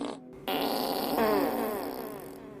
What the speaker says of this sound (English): That was Wally farting in his sleep.